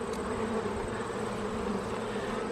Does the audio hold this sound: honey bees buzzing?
yes